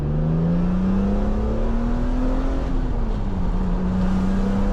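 A flood-damaged salvage BMW Z3 M Coupe with an S54 engine drones loudly and steadily from inside the car, its pitch climbing and then dipping as it revs through a downshift.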